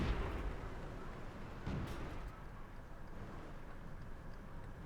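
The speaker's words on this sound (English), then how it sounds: "They both got a shot into us at the same time." Tank cannon shells strike the player's Luchs light tank in World of Tanks, fired by a Panzer 38T and a Panzer IVa, heard as heavy, rumbling booms over a constant loud engine drone.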